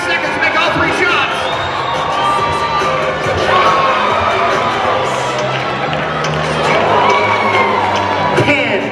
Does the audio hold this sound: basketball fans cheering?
yes